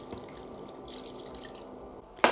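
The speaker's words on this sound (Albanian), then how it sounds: "Tashi i hudh edhe gotën e longut." Hot broth poured from a glass into a baking dish of potatoes for a tavë casserole, a soft steady liquid trickle ending in a brief louder splash near the close.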